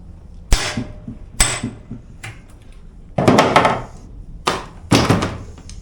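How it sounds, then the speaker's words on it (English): Several loud, sharp metallic hammer strikes on bolts of a 1970 Suzuki TC-120 motorcycle exhaust ring out one after another at uneven intervals, close up, with a few quicker double blows. "I think I just need to hit it with a hammer harder."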